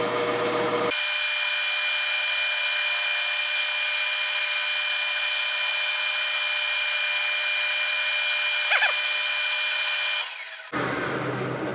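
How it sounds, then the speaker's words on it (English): A steady, high-pitched whine of an 8 mm drill boring metal runs nearly continuously, close and loud, with a brief knock near the end before the motor cuts out. "so that's an 8 mil drill."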